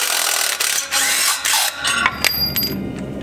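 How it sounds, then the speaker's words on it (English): A small Ryobi cordless power tool whirs in short bursts, close and loud, working loose the downpipe nuts on a Mitsubishi Evo 9 with some rattling metal contact between pulls. "Can the little Ryobi handle the downpipe nuts?"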